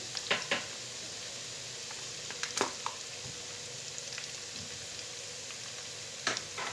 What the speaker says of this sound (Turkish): sarımsaklarımı da kavuruyorum bu yağda